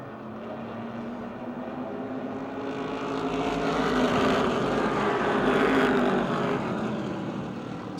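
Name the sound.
Wyotech Modified race cars racing at Motordrome Speedway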